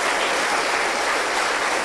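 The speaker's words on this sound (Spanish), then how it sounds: "Vamos a recibirle con un fuerte aplauso" Steady, dense clapping from a church congregation welcoming a pastor, sustained at an even level for the whole stretch with no voices above it.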